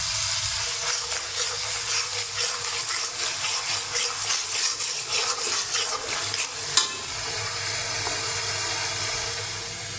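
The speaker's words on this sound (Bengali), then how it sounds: "এই যে ডাটা আর আলু আমি মশলার মধ্যে দিয়ে দিচ্ছি" Drumsticks and potatoes sizzle in a pan of cooked-down spice mix, a steady close frying hiss with stirring scrapes and one sharp clink near the end.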